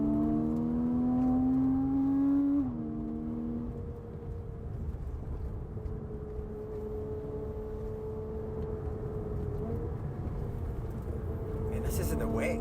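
Modified Porsche 987.2 Cayman S engine droning steadily while driving on a wet road, a rising rev note that drops after a shift and settles into a constant cabin hum.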